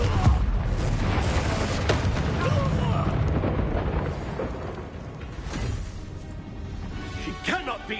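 A Confringo fire spell explodes in the Hogwarts Legacy game, a heavy rumbling blast that rolls on for several seconds before fading into lighter crackles and a few sharp pops.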